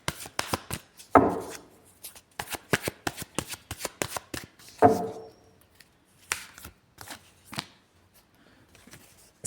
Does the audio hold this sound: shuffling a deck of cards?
yes